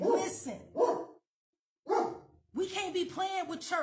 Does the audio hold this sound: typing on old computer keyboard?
no